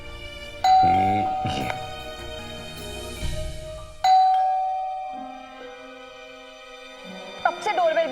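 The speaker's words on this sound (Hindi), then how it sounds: "कब से डोरबेल बज रही है, सुनाई नहीं देता?" A doorbell rings twice inside a home, each chime a clear sustained tone followed by a decaying ding-dong, with people talking around and between the rings.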